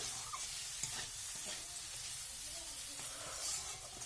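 Potatoes tossed with turmeric in a pan, a faint, steady sizzle with soft scraping strokes of a stirring spoon, fairly quiet and continuous with no talk.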